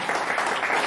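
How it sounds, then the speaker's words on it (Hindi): Audience at a disability poets' gathering (kavi sammelan) in Haridwar, Uttarakhand, claps in a short, dense burst of applause, fairly distant and moderately quiet, with no voices over it. "तालियां बजा कर"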